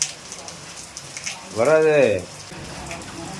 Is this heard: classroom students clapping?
no